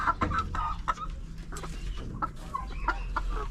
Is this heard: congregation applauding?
no